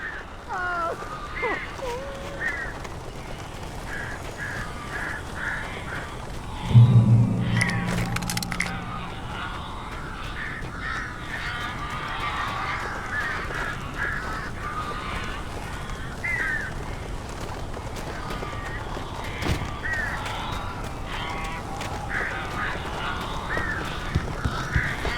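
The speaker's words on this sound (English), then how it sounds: "These birds are weird." Crows caw repeatedly in a dark, tense scene from the video game Alan Wake Remastered, scattered harsh calls over a low ambient bed with one louder thump partway through.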